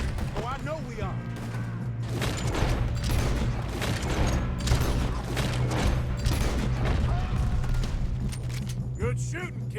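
Gunfire crackles in Red Dead Redemption 2, a burst of overlapping shots and booms over a constant low hum, with voices calling out between them.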